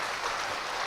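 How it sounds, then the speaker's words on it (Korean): Church congregation clapping to encourage a couple who run a small jjukkumi (webfoot octopus) restaurant, a brief steady burst of dense applause with no talk. "박수로 한번 격려해 주세요"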